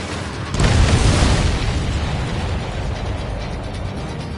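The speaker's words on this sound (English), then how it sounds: "Missile away." A missile launch from an F-2A fighter in the combat flight game Ace Combat 7 bursts out as a loud whooshing roar that swells quickly and then trails off into a sustained rushing noise.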